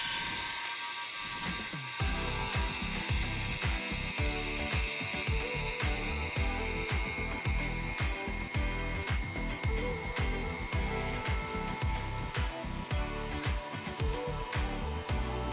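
A motorized garage lift lowering, its motor and drive mechanism giving a steady, loud rhythmic ratcheting clatter that runs continuously through the whole stretch with no talk.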